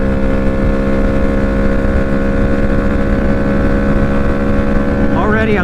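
A Honda Grom and a Benelli TNT135 run flat out at top speed, one small engine droning loud and steady as a high, constant whine, heard close as if from the bike, with a brief rise in pitch near the end.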